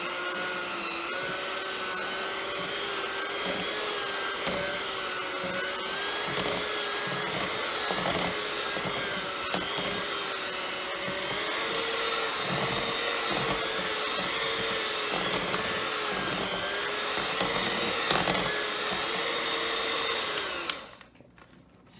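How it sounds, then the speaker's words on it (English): An electric mixer beater runs on a higher setting through batter, a steady, loud motor whine with harmonic tones that continues almost unbroken for about twenty seconds before cutting off abruptly. "you can turn up the beater on a higher setting"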